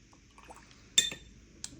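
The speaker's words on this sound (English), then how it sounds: "All right, so just dropping some water in here." A small splash and faint clink as water is dropped into a watercolor palette, one brief wet tap followed by a softer second drip, close and quiet with no talk.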